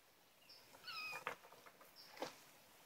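A gray kitten gives several thin, high meows, a couple in quick succession and another about a second later, close by in an otherwise quiet space.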